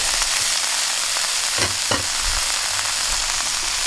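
Water spinach and tofu stir-fry in a hot pan, giving a steady close sizzle with a few scraping stirs of the spatula and no voices.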